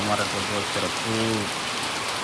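Steady rain falls and patters continuously in the background while a person speaks briefly over it.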